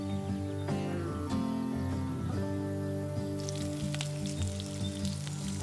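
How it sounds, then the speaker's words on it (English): A bed of hot coals under a Lodge Cook-It-All cast-iron wok in an open fire gives soft sizzling and scattered crackles that grow busier toward the end, over a steady tonal hum. "Got a nice little bed of coals going, and we're going to let it sit here and get hot before we get started."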